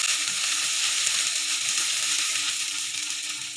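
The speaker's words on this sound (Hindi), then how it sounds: "ऑयल के अंदर मैंने प्याज को डाल दिया। और प्याज को फ्राई कर लेते हैं।" Chopped onions and green chillies fry in hot oil in a kadai, giving a steady, loud, dense sizzle with faint stirring clinks and no talking.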